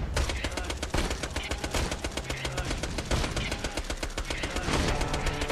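Rapid gunfire from co-op shooting in Borderlands 2, during Sir Hammerlock's Big Game Hunt DLC, loud, dense bursts of shots rattling almost continuously throughout, with voices faintly mixed in.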